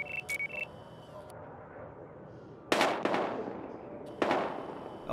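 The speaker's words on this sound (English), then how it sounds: "We've got gunshots." Gunshots ring out in the police shooter video game Battlefield Hardline, two sharp loud cracks with echoing tails about a second and a half apart, following earlier short electronic beeps over a low ambient bed.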